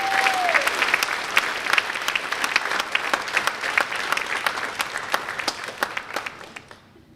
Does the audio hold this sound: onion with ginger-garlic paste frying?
no